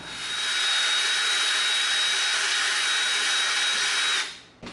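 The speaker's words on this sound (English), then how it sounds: "let's go in with an even larger bit just to make the hole easier to get through" A power drill with a larger bit bores through EVA foam, a loud, steady high whine that holds for about four seconds, then winds down abruptly with a short rattle at the end.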